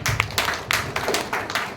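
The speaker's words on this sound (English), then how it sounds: "Clap for Abnita ma'am" An audience in a talk on children's behaviour claps for a teacher, a scattered burst of close hand claps with sharp individual strikes and small gaps between bursts.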